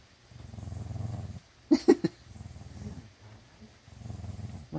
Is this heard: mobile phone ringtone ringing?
no